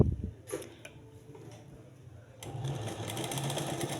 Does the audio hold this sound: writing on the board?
no